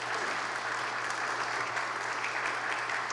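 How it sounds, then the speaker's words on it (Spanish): Applause for Itzel at a book launch for «Cuentos para el corazón», a steady, moderately loud crowd clapping continuously under a low hum. "que le dediquen un aplauso a Itzel"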